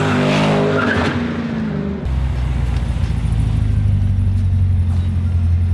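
A BMW E92 M3 with a swapped LT4 V8 roars steadily at high revs during a second-gear launch while tires squeal and skid, a harsh, continuous screech close by.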